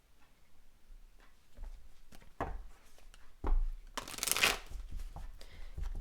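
Tarot cards shuffled for a reading, a series of close, soft riffling and tapping clicks with one louder burst of rapid card flutter midway, quiet and without speech.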